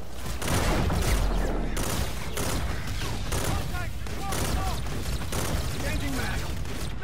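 Dense, continuous anti-aircraft gunfire pounds in a video game, with rapid overlapping bursts and booms, and voices talk over the barrage.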